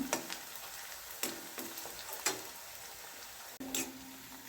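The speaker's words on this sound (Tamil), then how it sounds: "எவ்வளோ பொடியாக வெட்ட முடியுமோ அவ்வளோ பொடியாக நறுக்கி இதில் சேர்த்துக்கிறோங்க. நல்லா வதங்கட்டும்." Finely chopped onions sauté in a pan for mint-coriander thokku, a low continuous sizzle punctuated by several distinct clicks and scrapes of a spatula, close and fairly quiet, without speech.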